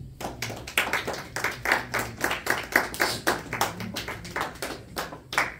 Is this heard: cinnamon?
no